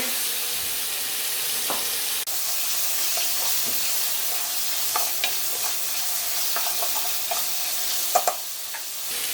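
Tomatoes sautéing in a pan for ginisang upo, bottle gourd stew, a steady bright sizzle with occasional stirring clinks, close, no talking.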